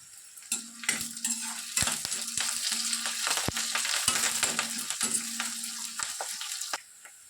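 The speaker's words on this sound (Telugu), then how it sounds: "బ్రౌన్ కలర్ వచ్చేంత వరకు లైట్గా వేగితే చాలు అలాగే ఫ్రెష్ కరివేపాకును ఈ విధంగా తుంచేసి వేసుకుంటున్నాను చూడండి" Fresh curry leaves and onions fry in oil in a clay pot, a loud close sizzle with repeated sharp scrapes and knocks from stirring, then fading to quiet at the end.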